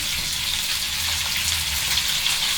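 Fish pieces stir-frying with black pepper in a pan, a loud, dense, continuous sizzle with crackling spatter and no break throughout.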